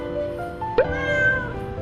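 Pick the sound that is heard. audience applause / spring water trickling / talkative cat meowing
talkative cat meowing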